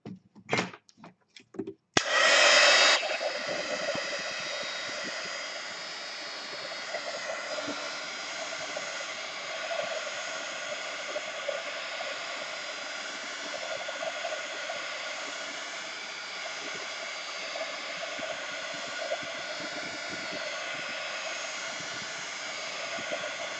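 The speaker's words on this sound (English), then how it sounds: "I'm going to pull out the heat gun here" A heat gun blows hot air in a steady, loud whoosh with a high whine, running on without a break after a few brief clicks and knocks at the start.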